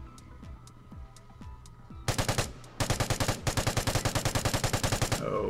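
Automatic gunfire in the video game Vigor sounds in rapid, loud bursts, starting with a brief string of shots and then a longer sustained volley, with faint distant shots before them.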